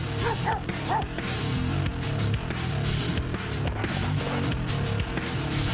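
Belgian Malinois at an Army post, barking and yipping urgently with whimpers in between, fairly close and continuous over noisy outdoor background.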